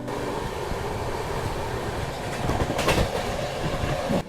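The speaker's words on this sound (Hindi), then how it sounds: "फिर क्या था, ट्रेन प्रयागराज चौकी और नैनी स्टेशन को भी ऐसे स्किप करती है, रुकती नहीं" A passenger train on LHB coaches of the Triveni Express rolls through stations near Prayagraj without stopping, giving a steady loud rumble with faint clickety-clack. The noise swells briefly toward the end, and no one speaks.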